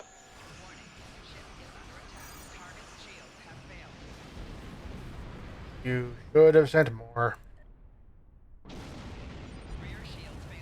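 Warp core explosions in Star Trek Online: a low rumbling space-battle backdrop broken by a cluster of loud booming blasts midway, then a sudden silence before the ambience returns, with a voice speaking over it.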